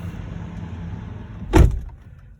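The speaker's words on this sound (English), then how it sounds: "Closing the door." A single solid thump of a 2020 Mercedes-Benz GLE350 door shutting, sharp and close, rising out of quiet cabin hum and fading quickly.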